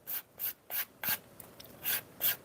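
Leather edges are sanded by hand in a workshop, a series of soft rhythmic rasping strokes, about seven in a couple of seconds, close and fairly quiet.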